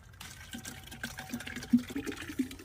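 Water poured into a butter-making mix in a cooking video game, with short splashy, gurgling bursts that rise and fall over about three seconds and no talking.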